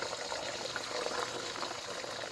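Eggs hit a hot oiled wok for special fried rice, giving a steady, close, bright sizzle and crackle that holds evenly throughout, with no one talking.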